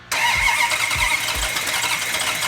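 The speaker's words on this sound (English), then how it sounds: "it's time to crank it over and fire it up" An engine cranks over in rhythmic low pulses, then catches and fires, settling into a loud, steady running roar that continues close by with no talk.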